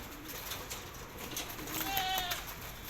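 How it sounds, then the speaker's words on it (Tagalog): Faint fluttering and soft cooing of racing pigeons being let out of their loft in an open space, with a quiet animal bleat partway through over low background hiss. "pinapalabas niya yung mga kalapate"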